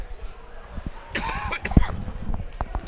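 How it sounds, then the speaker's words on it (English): A single cough from a commentator at a girls' high school basketball regional final, close to the microphone, with faint crowd noise and scattered bumps around it. "one last cough before we move on"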